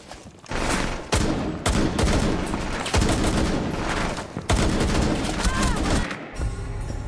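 Loud, close shotgun blasts ring out in an online shooter game, arriving in several heavy bursts separated by short gaps.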